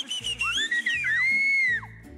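A child whistles a sliding, warbling tune at close range on the TV talent show La Voz Kids, rising and falling in pitch, with a short pause before a final held note.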